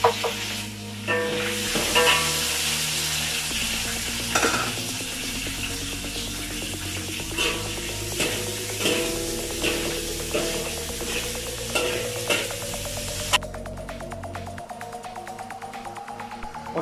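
Sliced bell peppers (red and green), onion and tomato sizzle steadily in hot oil while being stirred, with a constant loud frying hiss, scraping clatters of the utensil, and a clanging knock near the end.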